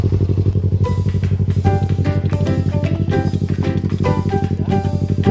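A Yamaha MT-25 motorcycle revs hard and steadily in a pulsing, throbbing engine note while climbing an off-road hill, loud and close, with clattering bursts from the rough ground.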